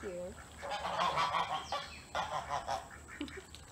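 Sebastopol goose honking repeatedly at close range, a run of loud nasal honks in quick bursts with short pauses between them, carrying over a quiet background.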